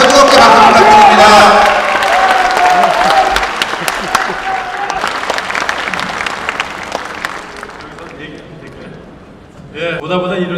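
Enthusiastic crowd applause at a Korean political party member education rally, loud clapping and cheering that gradually fades, with talk and music-like sound rising near the end.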